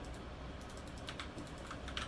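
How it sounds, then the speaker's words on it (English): A computer mouse clicks repeatedly during a PC game session, the light, sharp taps coming faintly in an uneven rhythm with no voices. "I'm clicking and nothing's happening."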